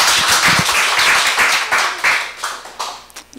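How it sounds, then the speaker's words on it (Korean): A church congregation at a Sunday worship service claps together, a short burst of close, sharp hand claps that thins into a few scattered claps. "박수 좀 한번 해요."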